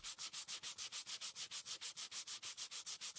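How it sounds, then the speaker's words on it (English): P1500 grit sandpaper scrubbing a yellowed Kia K3 headlight lens, fast regular back-and-forth strokes of about seven per second, close and steady with no talking. "Using P1500 grit sandpaper helps remove almost all remaining fine scratches"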